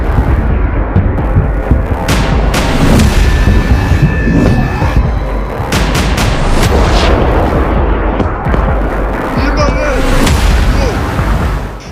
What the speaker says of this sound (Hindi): जैसे ही हिजबुल्लाह के हमले शुरू हुए, इजरायली आयरन डोम डिफेंस सिस्टम ने उन्हें हवा में ही नष्ट करना शुरू कर दिया।